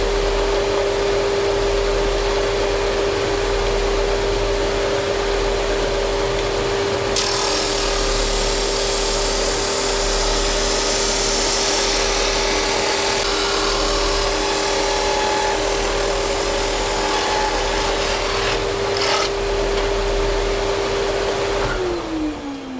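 Woodworking machine cutting tapered laminates on a sledge jig, running steadily with a vacuum extractor switched on partway, a loud continuous whine and hum that winds down at the end, no talking.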